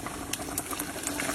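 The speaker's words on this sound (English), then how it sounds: "you hear that sizzle?" Bacon and onions sizzle in a pot for collard greens, giving a dense, continuous crackling hiss with scattered pops close by.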